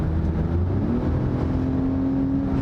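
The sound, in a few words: Lexus RX 350 F Sport accelerating hard and downshifting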